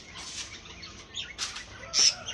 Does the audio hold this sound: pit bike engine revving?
no